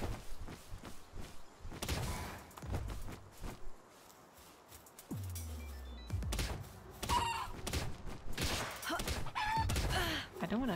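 Chickens in the Palworld video game cluck and crow amid game footsteps and thunks, with brief bursts of louder activity throughout.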